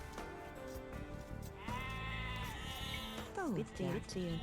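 Sheep in Age of Empires 2 Definitive Edition bleat twice in quick succession near the end, over steady game music and ambient sound.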